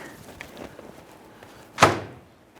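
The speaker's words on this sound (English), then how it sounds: "Using your pliers, go ahead and release the clamp here." On a 2002-2008 Dodge Ram 1500, pliers release the clamp on a power steering return hose, giving a single sharp metallic snap after a few seconds of quiet fumbling.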